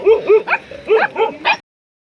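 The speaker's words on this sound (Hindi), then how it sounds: "तो देखिए भाई शेरू के ऊपर भौंकने लग गई है।" A dog barks in a quick series of sharp yips, about six barks in rapid bursts, close by and loud, then silence.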